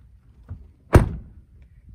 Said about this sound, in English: so let's go slam the doors and see if we can hear any kind of flimsiness